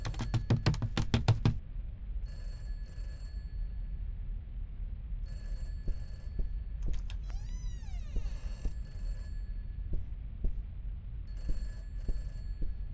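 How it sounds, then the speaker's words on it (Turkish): A telephone rings inside a dark horror-style video game, a rapid electronic trill repeating in several short bursts between quieter pauses, with small clicks and a sweeping tone in between. "Telefon çalıyor."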